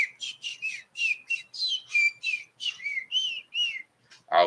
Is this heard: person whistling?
yes